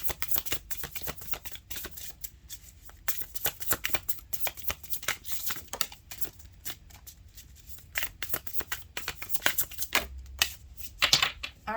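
Tarot oracle cards are shuffled steadily and up close, a dense, continuous run of crisp riffling and slapping with brief pauses, with no voices.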